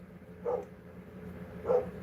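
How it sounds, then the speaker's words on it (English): A dog gives two separate barks about a second apart, moderately close, over a steady low background hum with no talking. "I'm just distracted by the barking"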